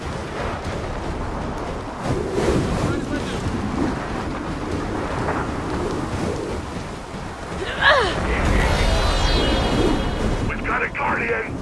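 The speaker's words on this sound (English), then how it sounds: "Oh, there's wind." Gusting wind in the Gears of War 4 video game, a loud, rushing roar that swells and ebbs with howling whooshes, while players talk over it.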